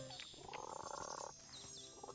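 Frogs croak in the Viva Pinata video game, a quick rattling burst of croaks followed by a few softer calls, fairly faint and alone with no talk.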